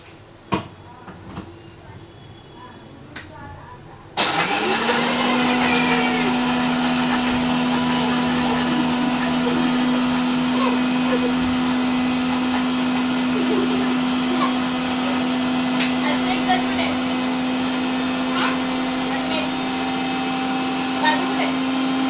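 A mixer grinder grinding Oreo biscuits for a milkshake starts abruptly after a few quiet seconds with light knocks, then whirs loudly and steadily with a constant motor hum and faint rattling, running on without pause.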